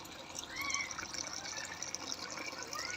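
Water pours steadily into a household storage tank, a continuous splashing, trickling rush that holds an even level throughout with no voices.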